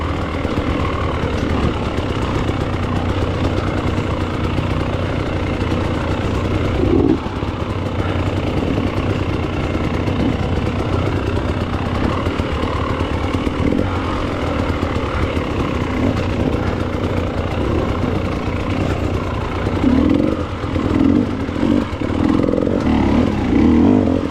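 Small-engined Prospector race motorcycles with smaller wheels run as a steady, continuous engine drone at moderate distance throughout, with a brief louder swell near the end and no talking.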